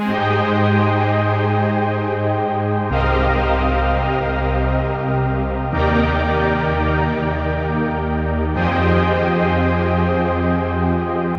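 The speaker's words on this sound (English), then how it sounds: "next we're going into another serum, which is a patch that I created called Chord Bright" A bright Serum synth patch plays four long sustained chords in a chill future bass beat, each changing every few seconds over a deep low note, full and steady in volume.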